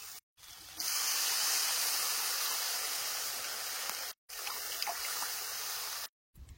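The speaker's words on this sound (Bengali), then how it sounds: "এবার জল দিয়ে দেবো।" Water poured into a hot pan of dhokar dalna, a vegetarian lentil-cake curry already cooking with tomatoes and oil, gives a steady close hiss and splash that runs for several seconds, broken by two brief silent gaps.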